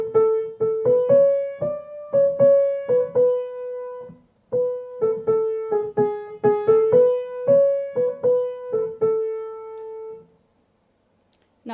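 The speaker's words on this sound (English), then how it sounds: "in Kurdish music, we would hear something much more melodic." A melodic Kurdish music example played as a single-line tune of plucked or struck notes in a lively rhythm, clear and close with no voices, ending after a short pause.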